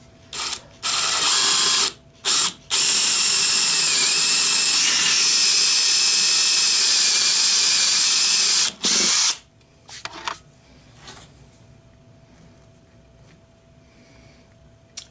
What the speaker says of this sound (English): So I'll be using the 3/8, which requires a 3/8 drill bit. Just going to drill in a little bit for that.